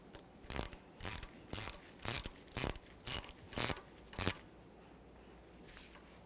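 A ratchet on the upper strut mounting nut of a 1994-1997 Honda Accord, eight close, clicking pulls in a steady rhythm, then quiet.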